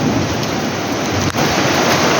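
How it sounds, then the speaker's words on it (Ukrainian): Heavy summer downpour pours down as a loud, dense, continuous roar of rain with no pauses and no voices. "Буквально годину часу, як прийшов з лісу, і ось який дощ валив."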